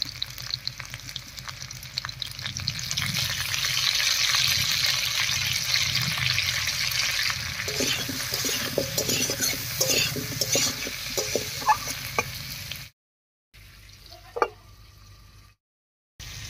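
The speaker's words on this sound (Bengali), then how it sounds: "ফোড়নের উপরে আলুটা দিয়ে একটু নাড়িয়ে নিয়েছি" Potatoes stirred in hot oil over a spice tempering: a steady close sizzle with scraping stir strokes and a few clinks, then brief silent gaps near the end.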